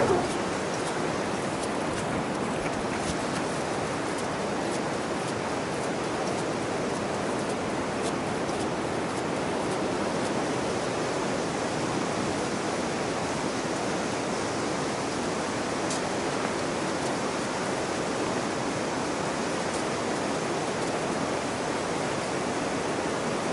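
Ocean surf on the North Oregon Coast gives a continuous, even wash of wave noise with no clear break into separate waves, and faint bird calls drift over the roar.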